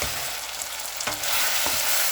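Lamb mutton karahi fries in a pan with a loud, close, continuous sizzle, broken by a couple of stirring scrapes.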